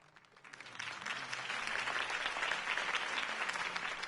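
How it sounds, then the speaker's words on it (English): A crowd applauding a Harvey Dent campaign speech, clapping swelling quickly from a few hands into loud, sustained dense applause that continues steadily. "could have heard that applause"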